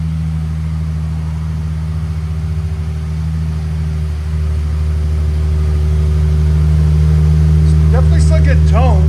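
A 2017-2020 Jaguar F-Pace with a 3.0L supercharged V6 and Vibrant Ultra Quiet exhaust runs up close with a loud, steady, deep engine drone that climbs in pitch midway. Brief chirpy sounds come near the end.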